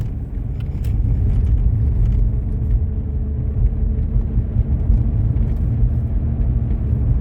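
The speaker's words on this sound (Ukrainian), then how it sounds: "зараз Микола покаже, як вмикаються всі чотири передачі" A car with a four-speed manual gearbox drives along a road, its engine giving a steady, loud low rumble with no distinct gear changes standing out and no talking.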